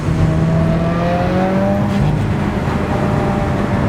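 A 2017 Subaru WRX tuned for E85 accelerates hard in second gear, its engine note rising steadily in a loud, continuous roar heard from inside the car.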